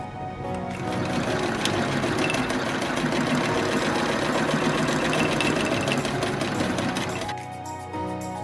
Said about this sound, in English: I just hold it down and sew it